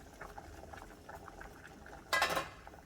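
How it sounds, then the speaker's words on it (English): Water bubbling steadily as potatoes boil in a covered pot, a soft continuous patter, with a short louder hiss or clatter near the end. "once my potatoes are boiling"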